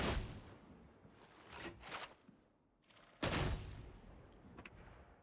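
Shotgun slugs fire in the video game Warhammer 40K: Darktide, with a handful of sharp, heavy blasts spaced a second or so apart, each trailing off into a brief echo.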